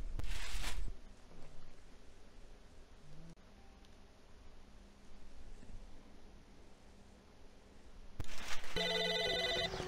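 An in-game telephone rings in Psychonauts, with a bright repeating electronic ring at the start and again at the end, separated by a stretch of quiet ambient game sound.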